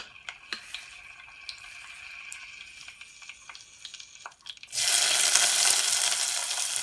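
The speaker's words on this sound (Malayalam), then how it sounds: "അതിലേക്ക് എണ്ണ ഒഴിച്ച് ഞാൻ അതൊന്ന് ചൂടായിട്ടുണ്ട് ഇനി അതിലേക്ക് നമ്മൾ ആദ്യം സവാള" Sliced onions drop into hot oil in a clay pot and burst into a loud, bright sizzle after a few soft clinks and handling taps, the frying hiss continuing steadily to the end.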